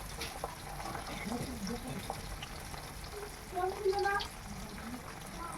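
Parshe fish fry in hot oil with a soft, steady sizzle, quiet and continuous, and a few faint clinks and noises from the kitchen.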